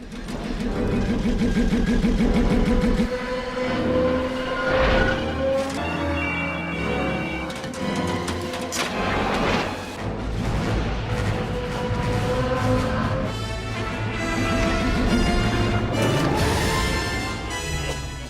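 Pod racer engines from the Star Wars pod racing sequence roar and whine past in a dense mix, with shifting high engine tones, rapid passes and crash-like bursts throughout.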